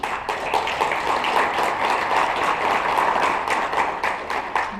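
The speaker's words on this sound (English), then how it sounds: "If you'd all give him a round of applause." Luncheon audience at an award ceremony gives a nominee steady, dense applause, an even wash of many hands clapping at moderate loudness throughout with no voices standing out.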